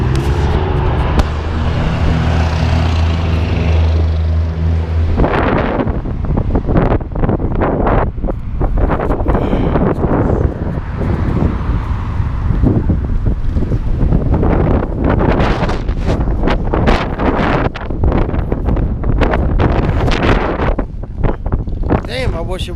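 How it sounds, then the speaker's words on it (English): Strong gusts buffet the microphone outdoors on a windy December day in Findlay, giving a loud, continuous low roar. Sharp, crackling bursts of wind noise spike throughout. "I wish it wasn't this windy"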